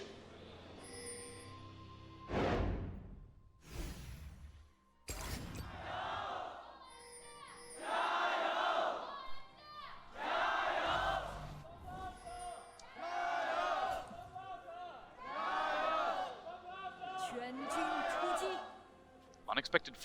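Arena crowd of fans at an LPL League of Legends match between OMG and FunPlus Phoenix in Chengdu chants and shouts in loud rhythmic bursts, rising and falling in waves with brief quieter gaps between.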